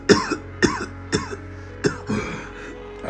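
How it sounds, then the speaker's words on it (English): A person caught in a harsh coughing fit on waking, with five or six loud, close, chesty coughs spaced about half a second apart, some followed by a rasping throat-clearing rattle, with quiet room tone between them. "I woke up today in a coughing fit."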